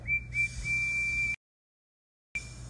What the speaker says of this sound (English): He whistled hello to Harry and Bert.